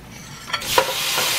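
Chicken hits a hot stir fry pan and sizzles loudly, a sharp hiss swelling up and then settling into a steady bright frying crackle, close and alone.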